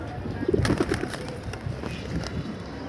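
Loft pigeons cooing close by, a few soft low throaty coos in the first second followed by quieter rustling and faint calls, with no one speaking.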